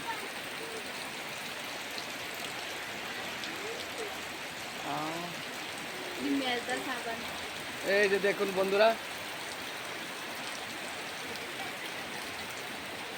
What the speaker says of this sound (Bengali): এই যে দেখুন প্রচুর বৃষ্টি হচ্ছে